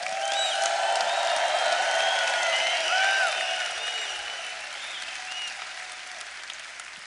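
A large crowd applauding steadily with scattered cheers and whistles, loud at first and tapering off slightly toward the end.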